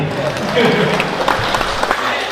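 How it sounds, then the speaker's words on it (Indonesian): A short burst of audience applause at a West Javanese political gathering, dense clapping lasting about two seconds, with talk mixed in. "Tepuk tangan itu bukti."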